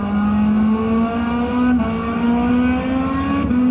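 A race car engine howls loudly and steadily up through the gears on a circuit, pitch climbing in long sweeps with brief dips at each upshift into fourth gear, close and continuous throughout.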